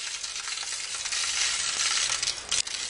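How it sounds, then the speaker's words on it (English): Water-contaminated motor oil sizzles and splatters as it is heated, giving a close, continuous crackling hiss with sharper pops near the end. "And you can see it sizzling and splattering everywhere."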